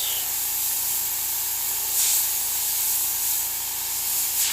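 Airbrush spraying paint through a stencil onto a skull design, a steady close hiss running throughout with a slight swell partway, no voices.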